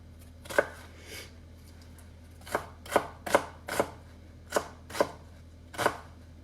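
A knife chops onion on a cutting board for marinara sauce, giving eight crisp, close thuds in an uneven rhythm with short pauses between, set against a quiet room hum.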